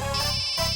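A mobile phone rings with a short electronic ringtone, a bright steady tonal pattern heard close and alone over a brief moment.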